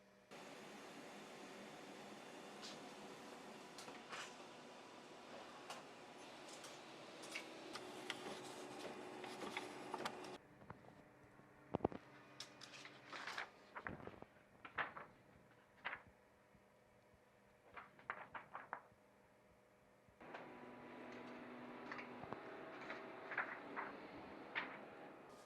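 A laser printer prints onto adhesive transfer paper, faint whirring and feeding interrupted by irregular clicks and ticks, with a quieter pause in the middle before the mechanism resumes.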